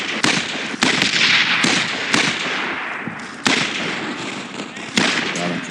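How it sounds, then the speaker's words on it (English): Gunfire in the World War II shooter Brothers in Arms: Road to Hill 30, sharp loud shots cracking at irregular intervals over a busy battle din, with a voice talking in places. "somebody's shooting you to the right"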